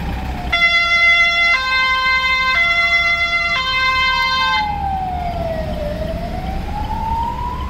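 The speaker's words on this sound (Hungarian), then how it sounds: "Szemből is mentő." A loud oncoming ambulance siren alternates between two tones, then shifts into a long rising and falling wail as it passes by, over traffic rumble.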